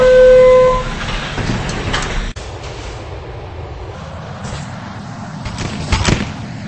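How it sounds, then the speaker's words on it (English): Local train approaching a station in the Roblox video game, a continuous rumbling rail noise with a brief horn-like tone at the start and a sharp clunk midway, moderately loud with no talk. "There is a local train approaching the station."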